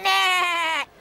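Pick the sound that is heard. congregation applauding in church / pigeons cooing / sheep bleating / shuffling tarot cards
sheep bleating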